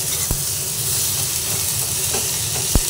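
Fried fish heads and potatoes sizzling in a pan, a loud steady hiss and crackle with a couple of sharp knocks from stirring.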